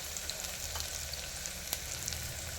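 Onion, ginger and garlic fry in hot oil with mustard seeds and cumin for a tempering, giving a steady close crackling sizzle with small pops throughout and no talking.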